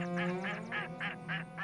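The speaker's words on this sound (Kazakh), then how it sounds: "Бір мезгілде үйректер ұшып өтеді" Ducks quack in a steady run of about seven calls, evenly spaced, fairly close and clear against a quiet background.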